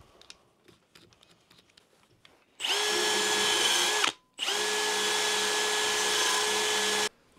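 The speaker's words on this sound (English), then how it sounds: "I'm going to get the drill out, get this into the vise, and use one of these wheels." A power drill spins a wire wheel against a mower blade clamped in a vise, whirring loudly in two long continuous bursts separated by a brief pause, after some quiet handling noises.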